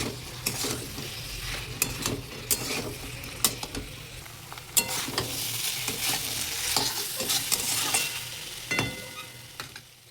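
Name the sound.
stirring and frying dragon chicken in a pan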